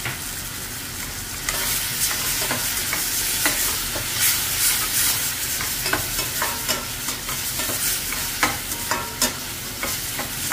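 Kashmiri chili paste frying in a pan, a loud, steady sizzle and spatter with frequent stirring scrapes, close by with no talking.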